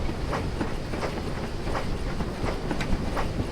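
Coaches by Donkey Works rolling along the North Norfolk Railway in Train Simulator, a steady rumbling run with repeated clickety-clack beats from wheels crossing rail joints at a brisk speed, heard up close from on board.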